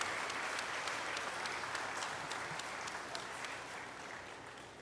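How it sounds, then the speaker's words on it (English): A university convocation audience claps steadily, a dense, even roar of many hands carrying on alone and easing slightly toward the end. "Let's give him a big round of applause,"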